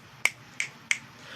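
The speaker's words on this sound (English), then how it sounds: "snapping my fingers." Three sharp finger snaps, evenly spaced about a third of a second apart, close and crisp against a quiet background.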